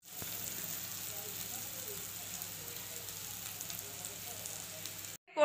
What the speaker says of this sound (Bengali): রাত্রে শুধু আলু আর করলা ভাজা করছে